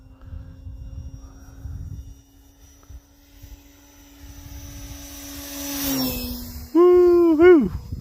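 An RC model airplane flies inverted at a little over half throttle over snow, its electric motor a steady whine that rises into a loud, close, pitch-bending pass near the end, with wind noise underneath.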